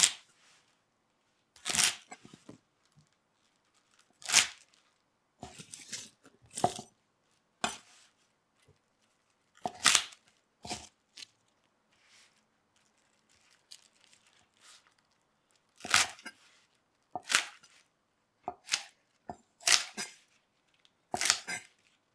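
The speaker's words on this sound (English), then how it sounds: "Wash, trim off root end, then cut cải ngồng into 3 to 4 centimeter lengths." A knife slices Chinese flowering cabbage (cải ngồng) into short lengths on a cutting board, with sharp, distinct chops in irregular bursts and quiet gaps between them.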